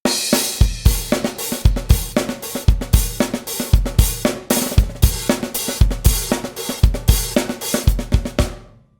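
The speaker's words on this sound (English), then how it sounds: "I added a disco hat sort of feel to it, just to bring it up a notch." A drum kit plays a groove from a song with an open disco-style hi-hat feel, steady kick and snare hits and bright cymbal wash, loud and close, ending on a decaying cymbal.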